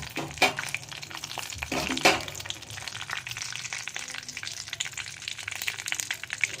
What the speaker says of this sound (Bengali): এইবার তেজপাতা এলাচ আর দারচিনি এই তিনটে আমি তেলে ফোড়ন দিয়ে দেব